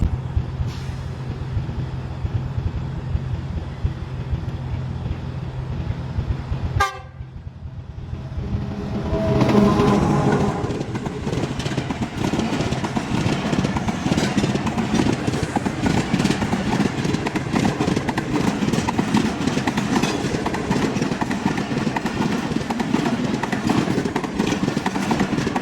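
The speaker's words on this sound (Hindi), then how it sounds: "अभी मैं मौजूद हूँ लाहौर कैंट रेलवे स्टेशन।" Ambience at Lahore Cantt railway station, with a steady rumbling hum that cuts out briefly, then returns as a loud, dense roar of engine and rail noise that carries on continuously.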